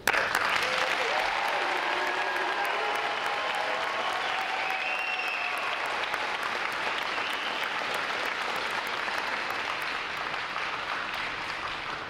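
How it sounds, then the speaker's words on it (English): A large audience at a U.S. Navy Recruit Training Command graduation ceremony applauds for the recruit divisions, a broad, even roar of clapping heard at some distance in a big hall that holds steady, then slowly eases. "Please join me in giving them three other outstanding divisions before you here now a round of applause for their preparation and performance to this day"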